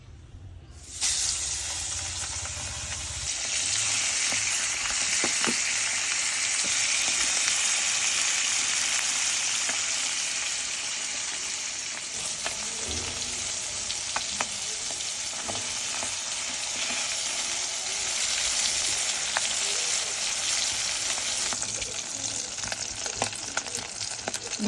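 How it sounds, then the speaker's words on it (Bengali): White pomfret from Barishal fries in oil, a loud, steady, close crackling sizzle sustained throughout with faint scrapes and small pops, no voices. "একদম বরিশালের রূপচাঁদা, সাদা রূপচাঁদা। তো এটা এখন খুব সুন্দর করে ভাজবো।"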